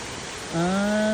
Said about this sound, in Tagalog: So ito yung waterfalls.